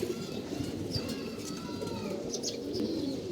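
Racing pigeons coo in a low, rolling murmur near at hand, steady throughout with faint chirps on top and no one speaking.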